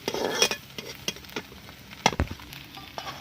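Beaten egg is scrambled into a crumbly bhujia in a pan for a bitter gourd dish, with a light sizzle under quick spoon scrapes and a few metallic clinks in a short burst.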